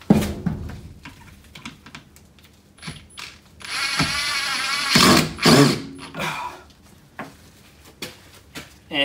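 A cordless drill drives screws to fix a seal along a roller door, giving a busy stretch of whirring bursts and mechanical ratcheting with a louder burst midway, along with scattered clicks and handling knocks.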